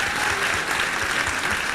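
Audience clapping at a high school valedictory assembly, a dense, steady burst of applause from a large crowd.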